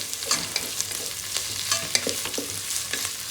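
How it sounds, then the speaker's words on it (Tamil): Green chillies sautéing in a Geek Robo Cook pot for tomato rice, bright close sizzling broken by repeated scraping strokes of a spatula, brisk and busy with no voices. "இது அப்படியே நல்லா வதக்கிக்கணும்."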